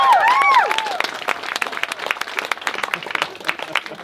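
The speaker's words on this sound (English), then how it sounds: "A round of applause for those beautiful vows." Wedding guests applaud after the vows at a ceremony, producing a dense, crowd-wide patter of clapping with a few cheers. A voice is heard briefly at the start.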